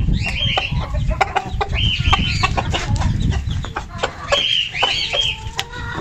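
Two Aseel hens and an Aseel rooster cluck and call close by, with repeated hen cackles and short rooster calls over a steady farmyard background.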